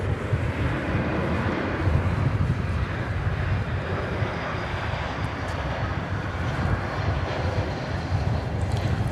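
An airliner arriving at DFW Airport produces a continuous low, rumbling engine roar with gusty, wind-buffeted texture, moderately loud and unbroken from start to finish.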